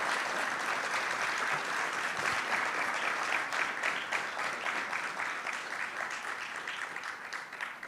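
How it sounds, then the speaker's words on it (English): Audience round of applause at a resilience fund launch ceremony, many people clapping in a thick continuous patter that holds strong and then gradually thins and softens toward the end. "If you want to give a round of applause,"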